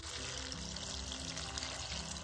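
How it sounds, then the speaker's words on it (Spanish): Cold water is poured steadily over dried guajillo and chile de árbol chiles to soak them for red chile tamales, giving a continuous close splashing pour with no talking. "Voy a poner a remojar los chiles con agua fría."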